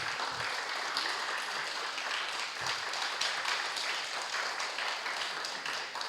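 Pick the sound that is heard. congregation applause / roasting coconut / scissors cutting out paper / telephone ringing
congregation applause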